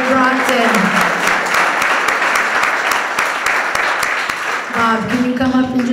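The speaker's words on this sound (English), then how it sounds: "Give him a round of applause." Loud, sustained clapping from a sizable audience at a church parish celebration fills the whole stretch, with a voice speaking over it at the start and again near the end.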